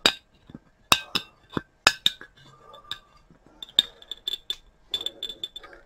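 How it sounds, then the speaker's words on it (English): A rod pokes and stirs a solid chemical inside a glass container while preparing methylammonium chloride from hexamine, giving sharp glassy clinks and taps in irregular bursts with scraping between, close and fairly quiet. "Now I'll get something to poke it with and kind of stir it up a little bit."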